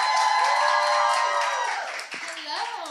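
Audience at a live acoustic pop concert applauds, a dense wash of clapping and some cheering that fades slightly toward the end; no talk over it.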